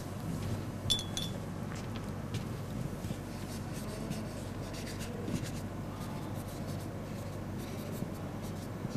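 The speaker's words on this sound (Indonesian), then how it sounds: "kita warnai langitnya semuanya dulu" Crayon or pencil rubbing steadily across paper while the sky is coloured in a picture-story drawing, a soft continuous scratchy texture with a few faint clinks, close and quiet against low room hum.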